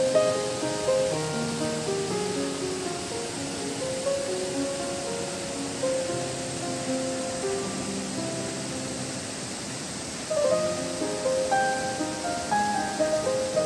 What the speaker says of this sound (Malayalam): ചെറുതും വലുതുമായി ഒട്ടനവധി വെള്ളച്ചാട്ടമാണ് പയ്യാനിപ്പുഴയിലുള്ളത്